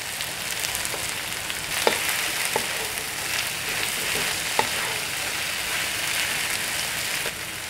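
Tofu and tempeh fry in a pan with green chili for a coconut-milk vegetable dish, making a steady close sizzle like light rain. Occasional soft clicks of stirring come through, and no one talks.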